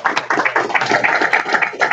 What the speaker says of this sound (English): We'll give Mr. Alex a round of applause.